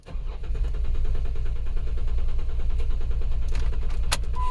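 A 2011 Jeep Wrangler 3.8L V6 with a stored misfire code cranks steadily in clear flood mode, its starter whirring loud and continuous for several seconds, with a brief chime near the end.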